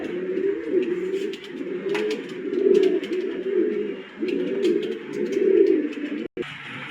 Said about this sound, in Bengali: 2 নম্বরে একটা কবুতর মাক্সি কবুতর